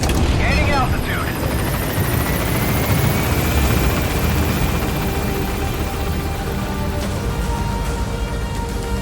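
Extraction helicopter in the stealth-action game Metal Gear Solid V, a loud, steady rotor and engine roar gaining altitude and filling the whole stretch, with voices heard over it.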